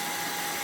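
A GKT mini portable fan runs at high speed, giving a steady, loud broadband whir with a constant tone and no breaks.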